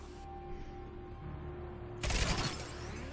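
Glass struck without breaking in Mass Effect 3: a quiet mechanical hum gives way to a sudden bright, ringing impact that decays over about a second.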